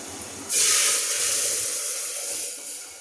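Hot tempering (phodni) poured into cooked dal, erupting into a loud, sudden sizzle that stays strong and steady for a couple of seconds, then tapers slightly, with no talking.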